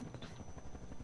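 Helicopter in GTA San Andreas, a brief burst of steady rotor chop with a thin high whine, fairly close and moderately loud, no voices.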